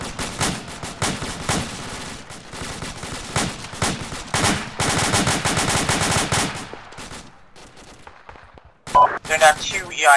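Enemy gunfire in the Arma military simulator, rapid volleys of shots from a second-story building to the north, dense and sustained, then tapering off before a few sharper reports near the end.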